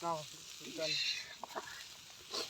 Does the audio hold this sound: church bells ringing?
no